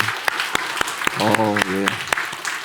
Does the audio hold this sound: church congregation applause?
yes